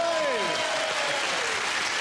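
Steady applause from a TV quiz show studio audience, a continuous roar of clapping with a falling whistle-like tone and some voices mixed in underneath.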